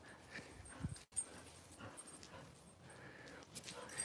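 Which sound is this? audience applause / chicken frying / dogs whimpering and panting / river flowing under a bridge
dogs whimpering and panting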